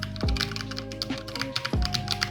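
Keys clack on a Logitech mechanical full-size 100% keyboard, a rapid irregular run of crisp taps close to the microphone, interrupted by a couple of low thumps, with no talking.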